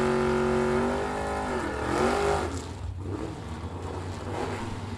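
Drag race cars, an orange Thunderbird and an orange Nova, at a bracket drag racing event: loud engines rev and rise in pitch as they accelerate, then a broad roaring rumble continues with some distance.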